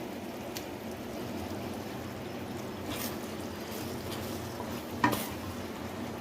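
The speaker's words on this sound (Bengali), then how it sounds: "আমি দিয়ে দিচ্ছি এবার চিকেনগুলো।" Six chicken pieces, about 600 grams, go into a hot pot for Kolkata-style biryani, giving a steady, fairly quiet sizzle and crackle throughout, with a couple of brief sharper clatters along the way and no talking.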